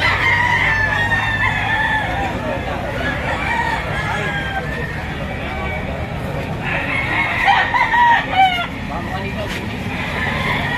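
Chickens and roosters at a poultry auction market in Lipa, with repeated crowing and clucking close by over a steady crowd hubbub and scattered voices.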